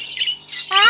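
A lovebird with Ujala-blue plumage gives harsh, close squawks and a rising screech over about a second, loud and clear, with a person's voice faintly in the background.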